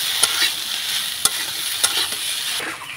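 Mixed vegetables frying in a pan with salt and turmeric, a steady bright sizzle broken by three or four sharp spatula clicks as they are stirred and tossed, close and fairly loud with no talking.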